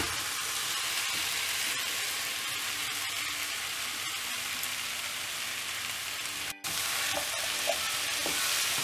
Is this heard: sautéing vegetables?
yes